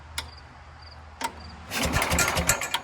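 1967 Sears Super 12 garden tractor engine cranking over on its starter generator with a fresh battery: two faint clicks, then about a second of rhythmic, chugging cranking close by without firing.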